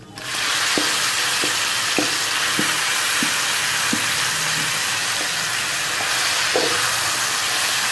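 Okra for bhindi masala frying in a pan, a loud steady hiss that surges as the vegetables go in, with a run of light spatula taps and scrapes against the pan.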